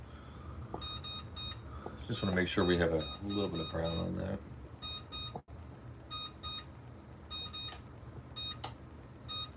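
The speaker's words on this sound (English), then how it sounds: "Let me put some timer on here." A kitchen timer beeps in repeated short bursts while bread toasts for bruschetta, the patterned beeps recurring throughout and partly overlapping a person talking nearby.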